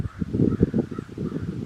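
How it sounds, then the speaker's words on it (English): Crows caw from a tree, a series of raspy, rhythmic calls repeating rapidly at moderate loudness, with no talk. "One of them crows are talking."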